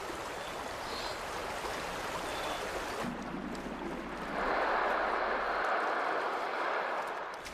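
Flowing river water runs steadily in the background, a soft continuous wash that shifts partway through to a brighter, louder rushing texture.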